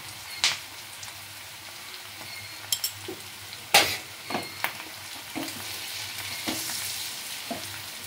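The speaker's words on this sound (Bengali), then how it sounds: "অল্প বিস্তর নাড়তে লাগবে এটা" Chilli bhetki fish stirred in a frying pan, with a spoon scraping and knocking the pan in irregular sharp taps over a steady sizzle of hot oil, close and fairly loud, no talking.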